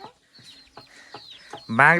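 A chicken clucks nearby in a run of short, evenly spaced clucks, ending in a louder, drawn-out squawk.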